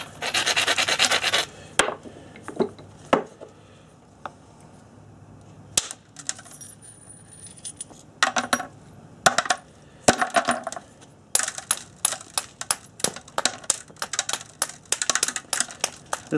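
Sharp, quick percussive clicks of stone being flaked while knapping a Snyder's point, arriving in irregular bursts with brief pauses between them, close up and fairly loud.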